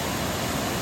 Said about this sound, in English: The world famous Drake Falls.